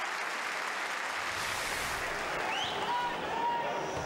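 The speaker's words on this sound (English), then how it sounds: "a minute's applause to celebrate the life of former Hearts youth player Jamie Skinner" Sustained applause from a large stadium crowd at a Hearts versus Kilmarnock football match, a dense wash of clapping at a distance with a faint voice talking over it.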